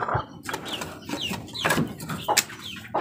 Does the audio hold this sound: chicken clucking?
yes